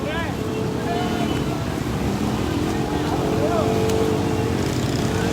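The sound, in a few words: 4x4 vehicle driving through flooded street in heavy rain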